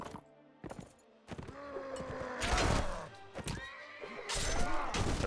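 Several loud horse whinnies and neighs from Mount & Blade Warband, broken by thuds and clip-clop, with no one talking.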